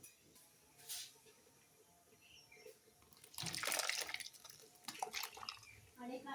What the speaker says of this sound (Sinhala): මේක මෙන්න මිරිකගෙන ඇත්තට මිරික ගන්න ඕනේ